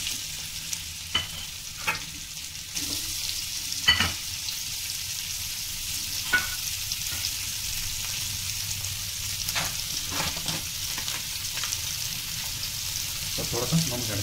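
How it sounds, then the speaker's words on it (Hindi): Vegetables sautéing in butter in a pan for red sauce pasta, a steady sizzle and frying hiss with occasional stirring scrapes and clinks throughout, fairly close. "हम कुछ वेजिटेबल्स हैं उसको हम सॉटे करेंगे।"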